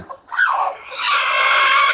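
A hen calls loudly and close by, a short squawk followed by a drawn-out, sustained cry.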